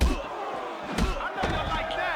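A fighter slammed into the surrounding crowd in the video game Def Jam Fight for NY: a heavy impact thud with crowd noise, landing under ongoing commentary voices.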